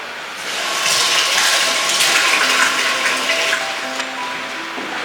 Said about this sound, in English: I'm gonna go ahead and wash my hands real quick.